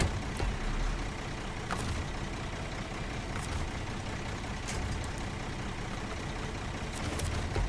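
Heavy truck engine in the SnowRunner off-road driving game, rumbling steadily and loud throughout, with occasional sharp hissing bursts.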